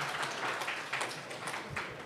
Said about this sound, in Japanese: それでは皆さん拍手でお迎えください。